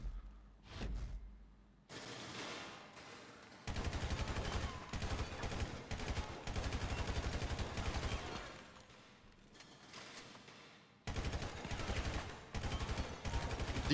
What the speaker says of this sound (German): Versuchen wir nochmal mit der Karabiner.